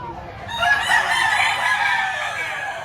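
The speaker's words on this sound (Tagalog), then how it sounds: "Mga galing ng farm ang mga manok na ito." A farm-raised rooster crows loudly nearby in one long drawn-out call at a chicken market in Batangas, Philippines, with faint clucking from other chickens in the background.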